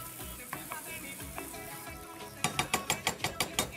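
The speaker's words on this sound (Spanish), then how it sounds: "Vamos a ir fundiendo el queso crema." Cream cheese melts and sizzles in a hot pan while a utensil stirs it, first soft scraping over a constant fry, then a quick run of rhythmic scraping strokes near the end.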